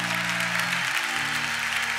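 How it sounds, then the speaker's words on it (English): A standing church congregation gives loud, dense applause during a gospel concert, with steady clapping over music or a sustained organ tone underneath. "stand on our feet and give a rousing applause"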